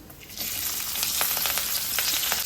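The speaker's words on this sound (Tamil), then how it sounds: "வெங்காயம் கருவேப்பிலை ரெண்டும் ஒன்றாவே போட்டுருக்கோம் இது விதங்கட்டும்" Sliced onions and curry leaves fry for a chicken gravy, a steady close sizzle that swells after a quieter start and carries faint crackles throughout, with no talking.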